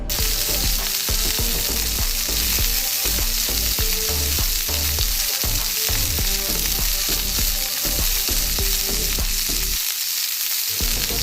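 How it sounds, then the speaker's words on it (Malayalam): A single tapioca slice dropped into hot oil to test it, giving a loud, dense, steady frying crackle that runs the whole time and dips briefly near the end, with no voices. "ആദ്യം വെറും ഒരു കഷ്ണം മരിച്ചിന് മാത്രം എടുത്ത് ഇട്ട് കൊടുക്കാം"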